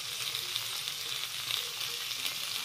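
Potato and pointed gourd curry with garam masala frying in a pan, a steady close sizzle with faint stirring throughout, no voices.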